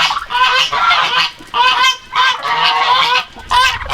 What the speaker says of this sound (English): Looks like the geese think they need fed.